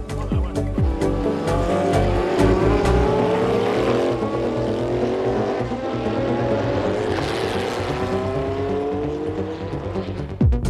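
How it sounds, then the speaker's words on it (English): A 1973 Lola Formula 5000 race car roars past at Mondello, its loud engine note rising and falling through gear changes, then fading with the car's passage for about ten seconds, no voices. "David Kennedy's car for the day is a 1973 Lola, once raced by Grand Prix star Clay Regazzoni"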